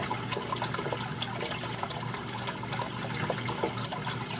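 Water flowing steadily through a Durso / Bean Animal aquarium overflow, a continuous close trickling and splashing wash with small gurgles throughout, no voices.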